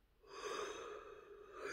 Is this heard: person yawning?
yes